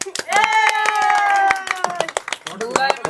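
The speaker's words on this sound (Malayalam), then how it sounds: "എല്ലാവരും ക്ലാപ്പ് ക്ലാപ്പ് ക്ലാപ്പ്" People clap in quick, uneven bursts while voices talk and sing over the applause at a wedding (nikah) celebration.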